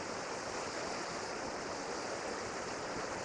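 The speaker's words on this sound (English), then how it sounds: "we had a short trek into this rainforest. And here's this beautiful waterfall." A waterfall in a Bali rainforest near Lovina roars in a constant, even rush of falling water, a steady broadband hiss with no voices over it.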